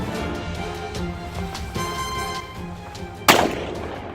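A single loud firecracker bang goes off near the end, a sharp close blast standing out above a steady background of outdoor noise, with no talk.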